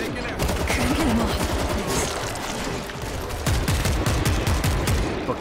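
Dense bursts of rapid gunfire crackle loud and close in the zombie shooter World War Z, fusillades and automatic fire overlapping with shouting players.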